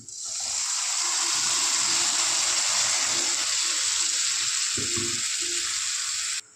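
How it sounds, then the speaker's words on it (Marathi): Mixed vegetables for pav bhaji hit hot oil in a kadhai with a loud, steady sizzle, punctuated by a few stirring clanks toward the end. "आता आपण मिक्स केलेल्या भाज्या त्यामध्ये टाकून घेऊयात कढईमध्ये"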